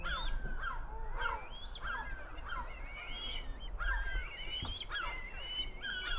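Red kites gather at a feeding and give many overlapping whistling cries at moderate distance over a steady outdoor background.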